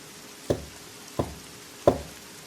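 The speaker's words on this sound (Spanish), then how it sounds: "escuchamos 3 golpes suaves en la puerta" Three soft, evenly spaced knocks sound on a door, each a short, dull thud, over a quiet background hush.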